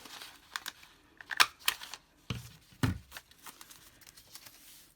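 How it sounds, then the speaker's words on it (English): A handheld hole punch cuts a circle out of paper at a journaling desk. Several sharp, close clicks and crunches stand out over quiet paper rustling, with no speech. "I'm going to take a hole punch and just cut out a circle."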